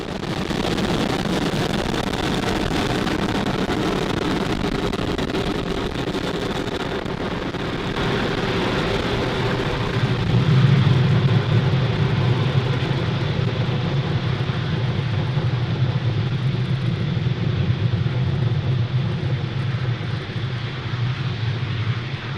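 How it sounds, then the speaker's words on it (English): Deep, continuous rumble of a SpaceX Falcon 9 rocket in flight just under a minute after liftoff on a Starlink mission, broadband roar swelling slightly midway and holding steady, distant and sustained with no talk. "Falcon 9 has successfully lifted off from Pad"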